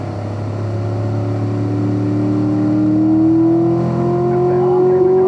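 A Corvette Stingray in manual third gear drones as it accelerates out of a corner on a race track, the engine pitch rising steadily and loudly over several seconds.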